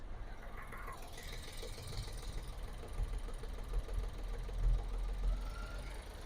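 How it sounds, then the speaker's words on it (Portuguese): Car engine idling with cylinder 3 deliberately cut out, running rough with an uneven misfire stumble, a low steady rumble with irregular thumps, close by. "Vou desligar o 3 aqui. E olha lá, ó. Cilindro 3 falhando"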